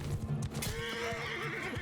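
A horse neighs loudly and close amid hoof clip-clops and battle noise in the video game Mount & Blade II: Bannerlord, a single drawn-out whinny lasting under two seconds.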